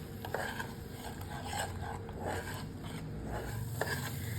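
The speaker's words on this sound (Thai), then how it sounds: "เราก็ค่อย ๆ เติมกะทิลงไป แล้วก็ผัดแบบนี้ไปเรื่อยๆค่ะ" Crab curry with coconut milk being stir-fried in a pan, a steady scraping and stirring with soft sizzling and occasional light clinks of utensil on metal, close and continuous.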